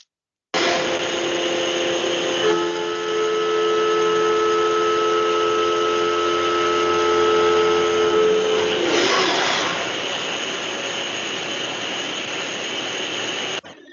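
Steel being cut on a CNC machine, a loud steady whine of the spindle and cutter with sustained tonal ringing that rises into a brief squeal around a curve, continuous near the machine throughout with no talk.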